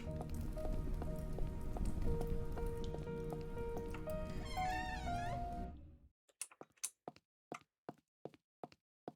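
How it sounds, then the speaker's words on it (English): Rain in a video game patters steadily on a surface for several seconds, then stops abruptly, leaving a series of sharp, isolated drips and taps. "Is it raining for dramatic effect?"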